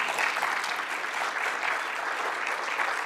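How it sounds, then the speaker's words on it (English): A round of applause from a seminar audience at a talk on auto subscription services, a dense, even wash of clapping held at moderate level for a few seconds. "I'll take a round of applause"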